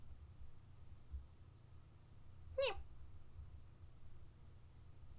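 A single short meow made by a human voice imitating a cat, moderately close against a quiet, hissy background.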